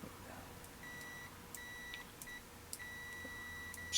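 A Kaiweets HT208 clamp meter on a continuity test gives a string of short, clean electronic beeps, several in a row with one longer tone near the end, set against a quiet background.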